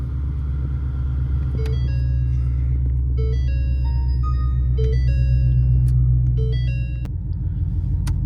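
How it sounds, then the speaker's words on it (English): A Ford Mustang with a Roush exhaust and a 10-speed transmission, in sport mode and shifted manually, rumbles loudly from inside the car while driving, the deep drone building steadily before easing off near the end. "All right, so we're rolling. Got the car in sport."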